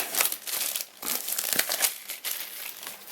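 Plastic wrapping on a new DJI Osmo 360 camera box crinkles and rustles up close in a quick series of crackling bursts, with no one speaking.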